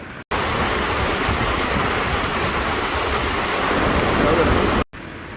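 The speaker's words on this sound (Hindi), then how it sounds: "इस पूरी जगह में सिर्फ लगातार खूबसूरत से पानी की आवाज़ थी" Continuous rushing flow of water in Kumrat Valley, a dense steady wash of noise heard alone and close, cutting in abruptly and ending sharply before a brief quiet tail.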